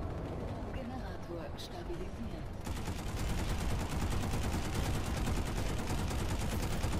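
Gunfire aimed at a Mosquito aircraft in Planetside 2: a continuous rapid stream of automatic shots opens up partway through and keeps firing dense and loud over a steady battle din.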